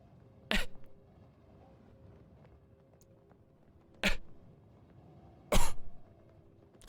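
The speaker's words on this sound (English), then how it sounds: "You hear a quiet cough from somewhere behind you." Three short, quiet coughs come from behind in the fantasy game Sorcery!, each a soft isolated burst separated by seconds of hushed ambient stillness.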